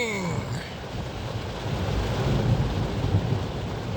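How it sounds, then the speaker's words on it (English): Thunder rumbles low and steady through a heavy thunderstorm with constant rain hiss, loud and enveloping, with a brief sharp crackle at the very start and no voices. "And the thunder."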